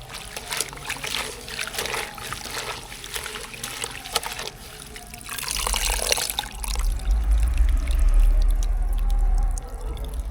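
Mustard greens for sarson da saag go into a pot of water just starting to simmer, giving a watery rustle and trickle, followed by a louder, deeper rumbling bubbling close by in the later part, with no talk.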